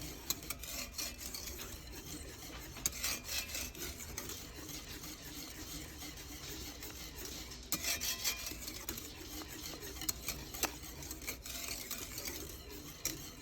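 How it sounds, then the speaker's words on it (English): A spoon stirs butter in a pan while it melts into a homemade banana pudding mixture, giving a continuous close scraping and rubbing with brief louder strokes, no voices. "You want to stir that till your butter's melted."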